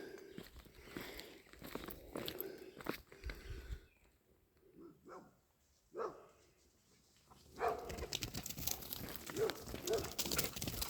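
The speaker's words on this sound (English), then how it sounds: "That seemed like the kind of bark where there's a person." A dog barks a few times, somewhat distant and faint, mixed with footsteps and rustling outdoors, while someone speaks quietly at points.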